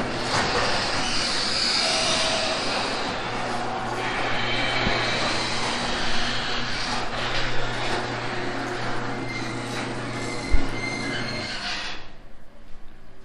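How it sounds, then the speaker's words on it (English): Garage door opener running steadily for about twelve seconds in a house garage, a continuous mechanical rumble and drone with a low motor hum, a brief clunk near the end as it stops, no talking. "The garage door operates as designed."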